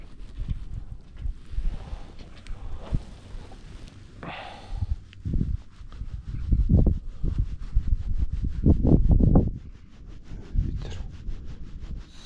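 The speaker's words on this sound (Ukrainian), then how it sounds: "сильно душить вітер." Strong gusty wind while fishing buffets the microphone in low rumbling bursts, rising and falling over several seconds with a brief rustle partway through.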